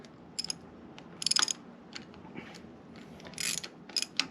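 A part on a Honda H22 engine is loosened with a ratchet, giving bursts of quick clicking pawl sounds and small metallic knocks close by in a quiet workshop.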